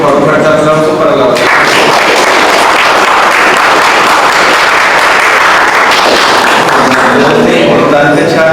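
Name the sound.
conference audience applause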